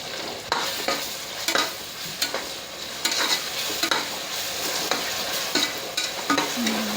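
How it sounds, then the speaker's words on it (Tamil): Ginger and mint paste sauteing in hot oil in a pan, a constant close sizzle broken by repeated scraping stir strokes at an irregular rhythm, with no talking. "வணக்கிக்கணும் எண்ணெயிலே நல்லா வணக்கிக்கணும்"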